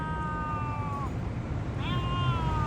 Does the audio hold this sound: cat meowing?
yes